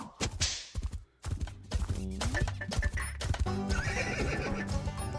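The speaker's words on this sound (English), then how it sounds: "There's the horse." A horse brought into a radio station studio for a Wednesday morning local show whinnies loudly and clip-clops its hooves close by, with people talking over it.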